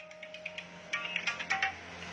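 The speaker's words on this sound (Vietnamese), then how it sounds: "mình nghe điện thoại rồi đã" A telephone rings with faint, quick electronic ringtone chirps repeating in short bursts over a steady low hum, quiet and without speech.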